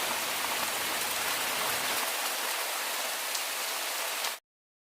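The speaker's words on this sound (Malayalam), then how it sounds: "ചൂടിന് ഇത്തിരി ആശ്വാസമായി വേനൽ മഴ വന്നെത്തി" Steady, dense summer rain pours down in Perambra, Kerala, in a continuous hiss, loud and unbroken, then cuts off abruptly.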